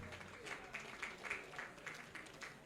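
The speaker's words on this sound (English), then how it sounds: "let's give her a round of applause again for that" Faint, distant applause from an audience honouring a newly awarded Doctor of Philosophy in Business Administration, heard as a soft, evenly pulsing patter of claps.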